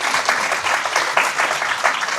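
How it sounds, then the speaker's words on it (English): Dense audience applause at a youth event honoring Hocaefendi's leadership, a steady loud wash of many hands clapping throughout with slight swells, no talk. "So we really put another hand of applause for them."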